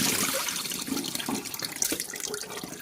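Tap water running into a kitchen sink while raw chicken is rinsed of lemon juice, a continuous close splashing stream with small knocks and handling sounds, no talk.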